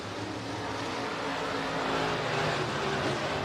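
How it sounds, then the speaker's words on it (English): A dirt track race car accelerates back up to speed at Boone Speedway in Iowa, a steady loud engine roar that swells slightly toward the end, mixed with broad crowd and track noise and no clear talking. "Going to try to get it back up to speed right in front of your race leader Bowers."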